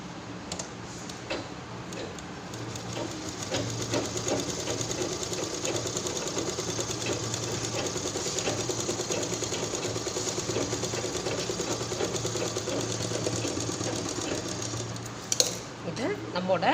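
Sewing machine stitching cloth lining over sponge for a homemade fabric purse, a steady rapid mechanical whir and tick running continuously, fairly close, ending with a few clicks.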